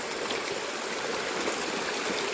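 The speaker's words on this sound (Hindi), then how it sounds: "अभी सारा पानी रास्ते से जा रहा है, ये वाला पानी जा रहा है यहाँ से सीधा।" Heavy rainwater streams steadily down a path outdoors, a constant close hiss and gush of flowing water with no talk.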